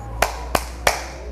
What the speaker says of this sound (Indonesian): Untuk yang ketiga adalah gerakan tepuk tangan.